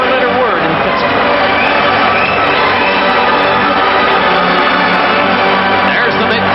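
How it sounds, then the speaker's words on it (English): A big hockey crowd roars in the old Chicago Stadium during a 1992 Stanley Cup Finals game, a loud, continuous wash of cheering and shouting filling the whole stretch. "There's the big crowd in the grand old Chicago Stadium."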